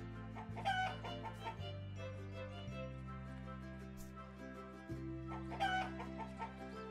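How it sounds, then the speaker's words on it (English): Chickens cluck in two short bursts in the farming game Summer in Mara, over steady low background game music. "Oh, you're another fully grown big brown chicken."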